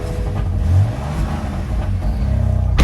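A stock 2019 BMW M4 exhaust revs at cold start, a loud, close, throaty drone that swells in short pushes and holds a steady rumble between them.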